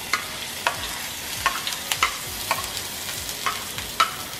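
Garlic frying in hot oil, a steady sizzle with sharp crackles and regular scraping stirs roughly every half second, close and clear with no talking.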